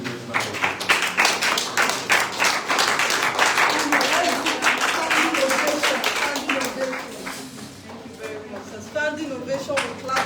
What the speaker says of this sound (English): Standing ovation with clapping ovation.